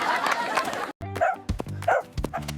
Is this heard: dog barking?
yes